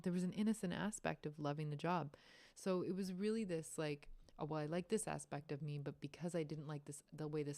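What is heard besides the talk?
No everyday noise stands out behind the speech.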